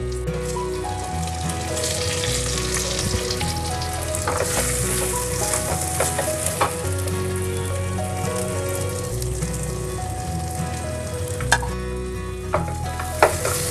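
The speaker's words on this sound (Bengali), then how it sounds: "কাজু বাদামটা অল্প ভেজে আমি এর মধ্যে চালটা দিয়ে দেবো" Rice frying in a pan with spices and cashew nuts for soy basanti pulao: a continuous close sizzle with scattered pops and scraping stirs throughout, and no speech.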